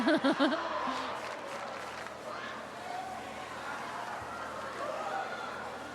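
A lively crowd fills a gym at a state volleyball championship, a steady murmur of voices and cheers under close commentary, with a brief whistle-like tone at the start.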